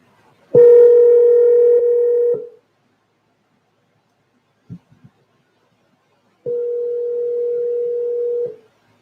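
A phone line sounds two long steady tones, each about two seconds, separated by silence with a couple of faint clicks between, while calling a cell phone number.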